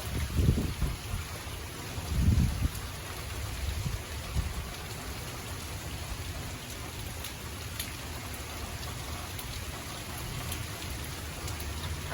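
Rain pours steadily during a severe thunderstorm, with a few low wind gusts rumbling near the start before the rain settles into a constant, moderately quiet hiss, with no talking.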